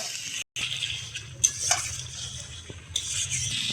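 Potatoes and spices stir-fry in a pan with a little water, giving a steady close sizzle under soft scraping and clinking of a spoon against the metal, no voices.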